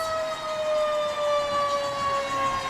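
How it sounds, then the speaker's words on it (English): Emergency vehicle siren wailing during a parade, a steady high tone sliding slowly downward, continuous and moderately distant with no talk. "We'll let the siren go by before we say anything else."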